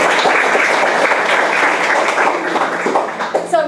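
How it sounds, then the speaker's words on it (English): Audience in a classroom or lecture setting breaking into sustained, dense applause, loud and close, with many hands clapping steadily throughout before it starts thinning at the end. "join me to give them a round of applause"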